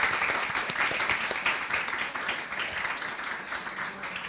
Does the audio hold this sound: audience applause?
yes